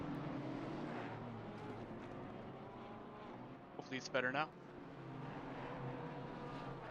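A racing game car engine drones steadily in the background at Misano while people talk over it, briefly broken by a short burst of higher-pitched sound.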